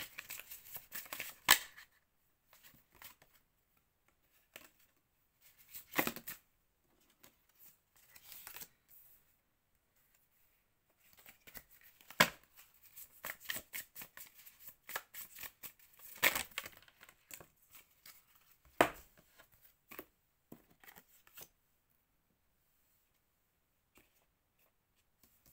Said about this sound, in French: Je vais prendre encore quelques cartes pour voir qu'est-ce qu'on nous dit.